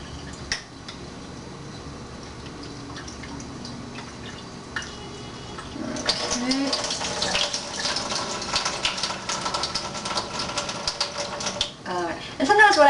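Running water rinses a batch of sprouting seeds in a kitchen, starting quiet with a few drips and swelling after a few seconds into a steady, splashy flow close by.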